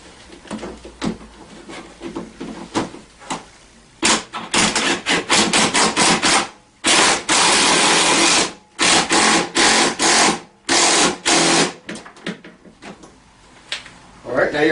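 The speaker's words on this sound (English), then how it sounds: "go ahead and tighten the steering column down" Wrench work on the steering column nut of a Tao Tao CY150A scooter, with repeated loud metallic clanks and ratcheting bursts in dense clusters, close by, broken by short pauses.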